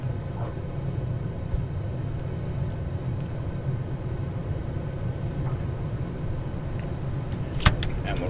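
Panavia Tornado IDS afterburners roar as a steady, dense low rumble through a takeoff roll in a flight simulator, with a brief sharp click near the end.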